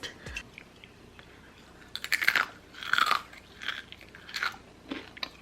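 Crisp carrot bacon chewed up close, a series of five or six sharp, crackly crunches in an uneven rhythm, fairly quiet and with no talking.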